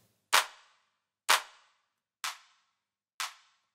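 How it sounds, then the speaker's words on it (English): Clap low and clap high drum samples for a piano house track: four sharp, snappy claps in an even rhythm with short decaying tails, fairly quiet and alone. "So in the clap, we've got a clap low and clap high."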